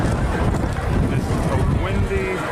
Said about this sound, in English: a windy day. Windy as hell here